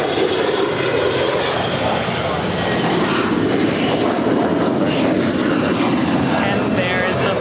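An airliner bound for Atlanta departs Los Angeles International Airport, its engines a steady loud rumble and roar from start to finish.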